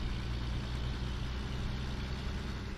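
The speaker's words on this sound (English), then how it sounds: "there's not many customers trying to sleep with this noisy Mack coming through" Steady low rumble of a Mack R truck with a custom Mack E6 engine idling in American Truck Simulator, constant and close with no speech.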